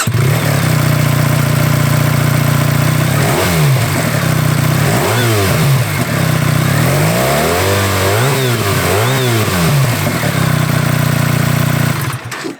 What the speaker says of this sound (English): It's a very distinctive note at the exhaust as well,